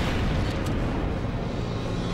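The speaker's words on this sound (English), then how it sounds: "Here we have another missile launcher." A missile launcher in the game Monster Attack firing a volley of homing missiles, a dense continuous roaring whoosh that stays loud and steady for about two seconds, with no talking.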